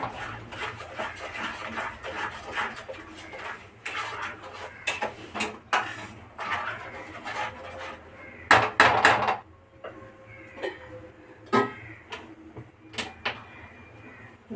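Whole spices are stirred in a cooking pot before it is covered, producing irregular scraping and knocking of a utensil against metal, with a cluster of sharp clatters near the end and quieter gaps between.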